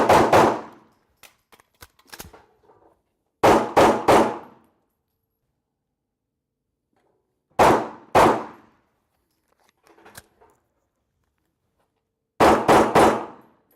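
Live pistol shots at an outdoor shooting range during a speed and tactical reload drill: pairs and bursts of sharp, loud reports separated by quiet pauses, with faint metallic clinks between strings of fire.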